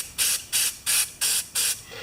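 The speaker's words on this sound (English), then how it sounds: "We should see a good spray coming out of there." A can of carburetor cleaner sprays in six short, sharp hissing bursts at an even rhythm, close and loud, with brief quiet gaps between each blast.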